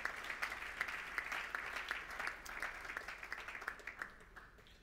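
A church congregation at a French-language Sunday worship service applauds together, a dense steady wash of many hands clapping that stays fairly even and then thins out toward the end.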